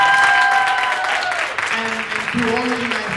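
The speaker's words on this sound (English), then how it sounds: "can we give them all please a big round of applause?" Audience at a BroadwayCon panel applauds performers, a sustained round of clapping with voices and cheering mixed in, fading slightly midway before picking up again.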